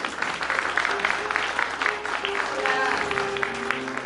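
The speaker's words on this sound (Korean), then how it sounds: "다시 한번 박수 부탁드리겠습니다" A crowd claps steadily and fairly loudly throughout at a literary lecture event, with a voice speaking over the applause.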